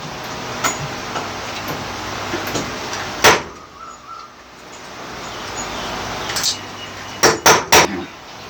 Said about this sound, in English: On goes the pop rivet gun.